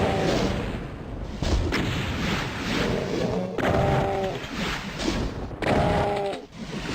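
Gunfire and explosions in a video game battle against Barons, with repeated booming, crashing bursts roughly every one to two seconds over a dense, loud roar of combat noise.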